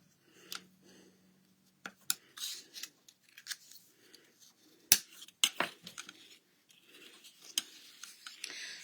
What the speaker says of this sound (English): So now I'll burnish the sides.